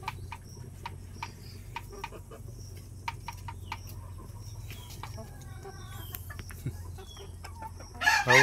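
Farmyard chickens clucking steadily around an outdoor farm, with short repeated calls throughout and a loud rooster crow bursting in at the very end.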